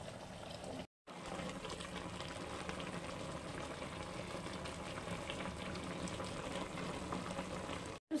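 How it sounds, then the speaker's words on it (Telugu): Goat head curry with dry ginger and black pepper bubbles at a steady, continuous boil in a pot, a close, even churning hiss with one brief cut near the start. "అది ఉడుకుతుంది, చూపిస్తాను మీకు"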